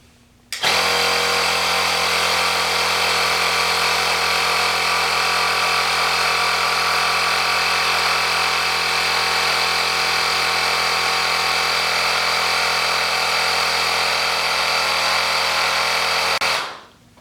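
A cordless 20V Hyper Tough tire inflator pumping up a car tire runs in a loud, steady mechanical drone for about sixteen seconds, starting and stopping abruptly, with no talking.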